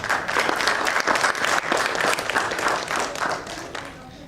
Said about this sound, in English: That is why they deserve another big round of applause.